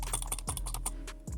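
Keys on a Bass Jaxx LED gaming keyboard click in a quick, irregular run of close, crisp taps, with a deeper thump or two that could be the space bar.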